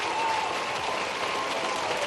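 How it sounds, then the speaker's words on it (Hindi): A large audience at a government employment-day event in India breaks into loud, continuous applause, a dense and even wash of clapping that fills the space, with no voices over it. "जोरदार तालियां हम सबकी।"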